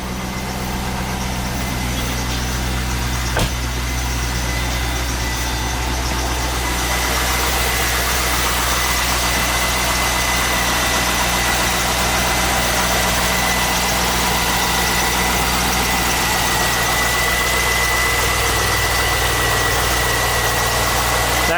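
A Corvette with original mileage of 37,592 idles close by, a steady, loud, low engine rumble that holds evenly throughout with a single sharp click early on and no talking.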